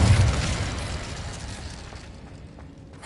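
An Incendio fire spell is cast in Hogwarts Legacy as a loud, roaring whoosh of flame that bursts at once and slowly fades into a quieter crackle.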